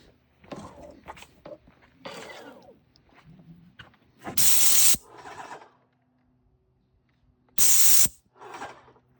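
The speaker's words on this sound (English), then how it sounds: "We got a brand new Magnum Pro X paint sprayer." A brand new Magnum Pro X paint sprayer primed with paint gives two loud, sustained hissing sprays of about half a second each, separated by quieter handling noises and rustling nearby.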